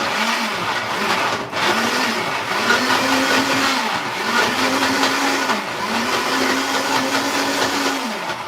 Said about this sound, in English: so let's blend